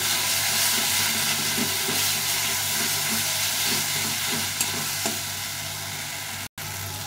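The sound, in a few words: ginger and garlic frying in pan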